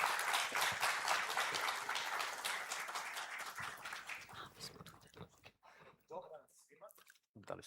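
A conference audience claps to welcome the board chairman to the stage: dense, steady applause for about five seconds that thins out into a few scattered claps and faint room noise.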